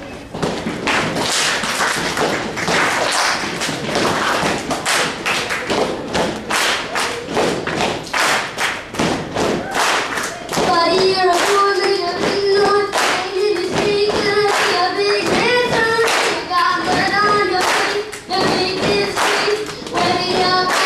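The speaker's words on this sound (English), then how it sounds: "Stomp twice and then clap." A school talent show audience repeats a pattern of two stomps and a clap, loud and steady over many bars, with singing and tonal music joining partway through.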